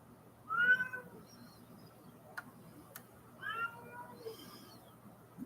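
A house cat meows twice a few seconds apart, moderately close, against a quiet indoor background with faint ticking.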